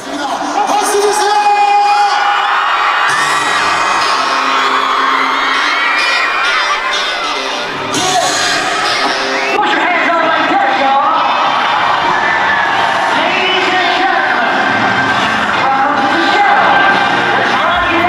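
At an FC Seoul home match, a stadium crowd cheers and shouts loudly and continuously, high-pitched whoops and screams swelling and falling throughout.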